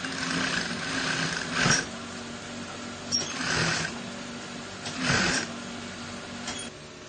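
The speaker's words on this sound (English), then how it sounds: "Sew that down to the end." A sewing machine stitches fabric down a seam in steady whirring runs, with a few louder surges and short pauses between them, close and clear.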